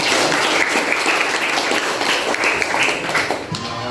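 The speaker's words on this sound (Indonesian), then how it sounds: "Oke, tepuk tangan untuk kita semua." A room full of people, students in a class session, claps together in a dense, steady burst of applause that holds for about four seconds before tapering slightly at the end.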